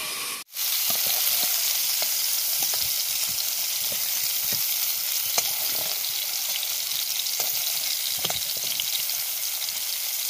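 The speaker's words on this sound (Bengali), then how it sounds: "ফুলকপিটা আমি ঢাকা দিয়ে দিলাম এরপর চুলোর জালটা বন্ধ করে দেবো এটা আঁচের মধ্যে হবে ভাজাটা" Cauliflower frying in a covered pan gives a loud, continuous sizzle with scattered crackles and pops, broken only by a momentary dropout near the start; no one speaks.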